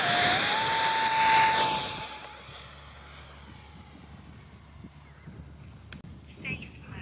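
The motor of a fully 3D printed RC airplane, a Fan Cat Maiden running on a 4S 1500 battery, whines loud and high at launch, then fades quickly into the distance, leaving wind noise.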